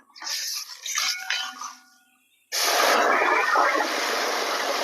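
Water gushes steadily into a cooking pot while unakkalari cheruparipp payasam is prepared, a close, continuous pouring rush after a short stretch of quieter clinking and splashing.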